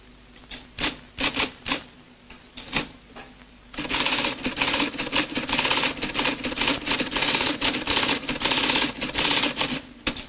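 Keys typed on a 1963 computer terminal: a handful of separate clacking keystrokes, then a dense, continuous mechanical chatter like a teleprinter running, close and fairly loud, with no talking.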